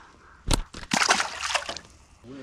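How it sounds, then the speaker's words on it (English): A crappie is released back into the water in South Georgia: a brief splash followed by a short burst of sloshing and dribbling water, close and fairly faint. "We're gonna get this one back in the water."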